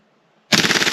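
A Tokyo Marui MWS airsoft rifle, tuned for high speed, fires a sudden full-auto burst at a very high rate, loud and close, with a rapid rippling rhythm after a moment of near silence.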